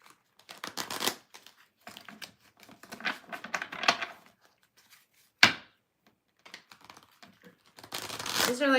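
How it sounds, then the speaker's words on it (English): Rapid, crisp riffling of playing cards in several short bursts, with a sharp tap in between, close and fairly quiet. "These are like the hardest cards to shuffle for some reason."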